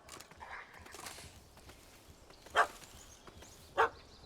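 Two sharp dog barks in The Witcher 3: Hearts of Stone, spaced about a second apart and moderately close, over quiet game ambience with faint rustling between them.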